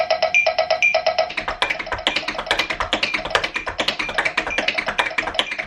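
Tap shoes rattle off rapid paradiddles at a very fast metronome tempo of 500, dense crisp taps in a steady driving stream, with metronome beeps at the start and no talk.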